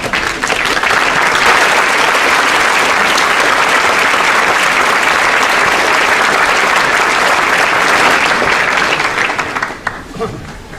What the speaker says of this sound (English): So I hope you will stand up and turn around and give them a great round of applause.